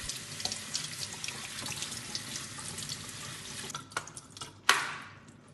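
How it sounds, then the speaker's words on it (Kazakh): Running tap water over lentils being rinsed in a sink, a steady close rush of water with some louder splashes and clinks near the end, no talk. "Жақсылап ағып тұрған кранның суына жуамыз."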